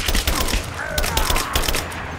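Rapid bursts of gunfire in the video game Rise of the Tomb Raider, sharp repeated shots crackling in quick succession over a dense, noisy battle backdrop.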